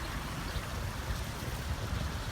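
A waterfall pours into a pond at a highway rest area in Texas, making a steady broadband rush of falling water that holds constant and fills the whole stretch, with no voices over it.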